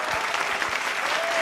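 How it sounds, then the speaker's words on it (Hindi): An audience at a televised Hindi poetry event applauds in a steady, dense patter of clapping, close and sustained throughout, with a faint voice briefly audible beneath it. "अच्छा लगा, थोड़ी तालियां उठाइए।"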